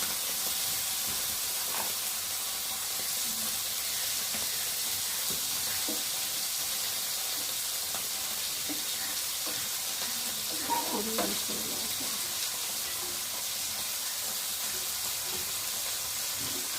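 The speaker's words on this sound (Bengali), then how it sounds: "মাছ ভাজা হয়ে গেছে দেখতেই পাচ্ছ, আর এখানটায় এখনও ভাজা হচ্ছে" Bhola fish fries steadily in oil in a pan, a constant close sizzling hiss running the whole time with a brief stir-like disturbance partway through.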